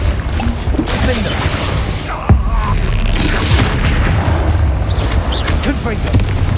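A Confringo fire spell explodes in the video game Hogwarts Legacy, a loud booming blast within dense game noise, with a sharp impact partway through and a voice shouting the spell.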